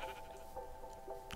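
A sheep bleats in a farm video game, a soft, wavering call against steady background game audio.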